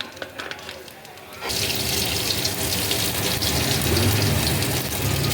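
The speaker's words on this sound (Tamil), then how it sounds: "இந்த வடை சட்டியிலே நல்லெண்ணெய் ஊற்றலாம்" Sesame oil poured into a kadai for a fish curry: a quieter rustle, then a sudden steady pouring rush from about a second and a half that continues to the end.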